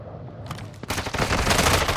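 A sustained burst of automatic gunfire in a military shooter game erupts after a brief lull, loud and rapid, preceded by a few scattered shots.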